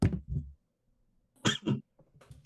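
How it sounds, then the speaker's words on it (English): A person coughs in several harsh bursts, two quick ones then a pause and two more, close and loud in an otherwise quiet room. "I'm coughing"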